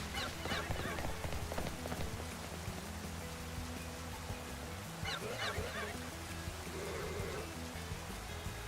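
Rain falls in the video game Pokemon Legends ZA, a constant pattering wash under the game's ambient sound, with short honking game calls near the start and around the middle.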